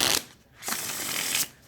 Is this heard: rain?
no